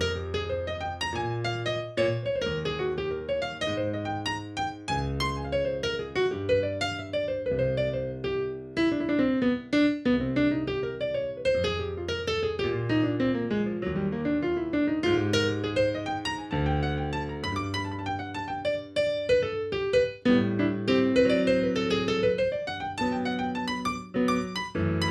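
Fast bebop jazz piano solo built on chord tones, with quick running right-hand lines over steady left-hand chords, played loud and continuous for about twenty-five seconds with no talking.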